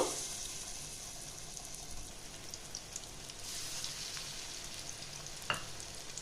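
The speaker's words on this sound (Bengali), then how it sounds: "এইভাবেই আমি সবগুলোই ভেজে নেব" Green banana koftas sizzling in oil, a steady quiet hiss with small pops and a brief utensil clink near the end.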